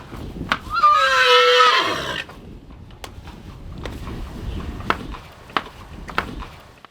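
A horse kept in a stable box in Switzerland lets out a loud, shrill whinny lasting about a second, then the stall goes quieter with scattered knocks and shuffling steps.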